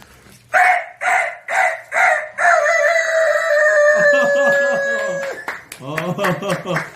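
A voice imitates a rooster, several short clucking calls followed by a long, strained crow that breaks off, then laughter and chatter nearby.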